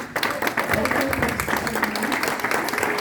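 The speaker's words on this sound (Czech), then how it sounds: "She deserves your biggest applause." An audience applauds to welcome a speaker on stage at a product presentation event in Prague, dense steady clapping from a crowd with a voice faintly audible beneath it.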